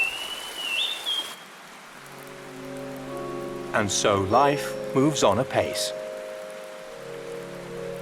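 Steady rain falls across a rainforest as a soft, constant hiss with a bird chirp early on, while someone narrates over it.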